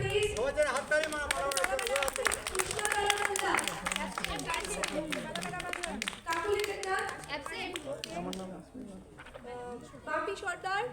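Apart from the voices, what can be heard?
applause, people clapping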